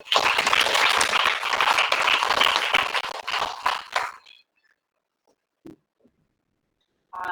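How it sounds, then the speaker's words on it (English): An audience at a webinar on Sri Aurobindo's vision of India applauds the speakers: about four seconds of dense clapping, then a sudden stop leaving a few scattered single claps in near silence. "Let us clap for our"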